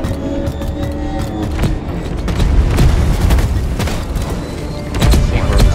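Loud, rapid gunfire crackles almost continuously with booming impacts while fighting a boss in the video game Deep Rock Galactic, dense and close throughout.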